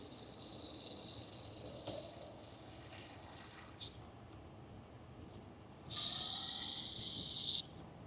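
Water pours from a coin-operated water vending machine into a container, a steady gushing run that starts abruptly near the end after quieter hiss and a short burst, heard alone at low level.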